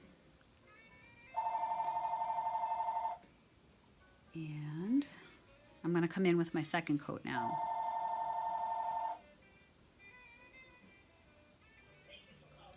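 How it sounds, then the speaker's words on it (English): A telephone rings indoors in two long electronic trilling bursts, clear and moderately loud, with a person talking between them. "Oh, phone is ringing, nobody's here."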